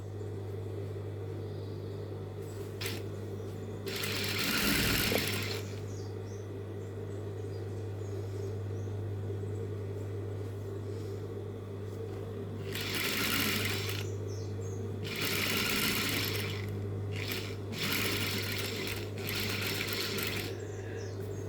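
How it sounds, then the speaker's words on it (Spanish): A sewing machine stitches tablecloths and placemats in quiet, close bursts of rapid mechanical chatter, separated by pauses in which a low steady hum continues. "bajamos el pie, clavamos la aguja y avanzamos con nuestra costura completamente segura"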